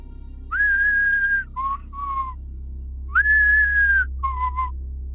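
A person whistles a short tune, a long sliding note followed by two shorter ones, repeated twice, imitating someone whistling; clear and close against a low hum.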